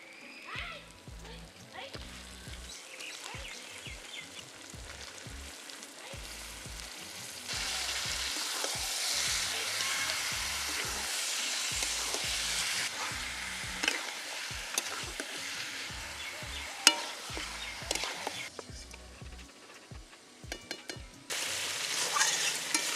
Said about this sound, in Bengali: এবারে মাংসটাকে দিয়ে ভালোভাবে কষিয়ে নিলাম।